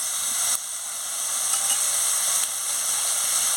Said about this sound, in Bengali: আনাজটাকে ভালো করে কষিয়ে নিচ্ছি।